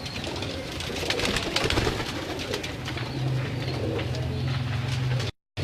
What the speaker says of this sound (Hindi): ये एक बड़ा कबूतर है मेरा सलारा।